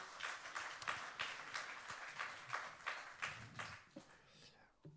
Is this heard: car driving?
no